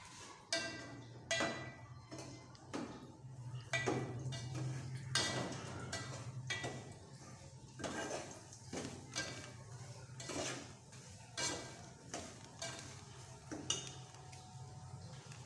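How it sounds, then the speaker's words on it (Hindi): Semolina roasting in a pan for suji halwa, a spoon knocking and scraping against the pan in a steady repeated rhythm, close but fairly quiet, with a faint low hum underneath and no talking. "एक पाव सूजी हमने डाल दी हम भूनेंगे"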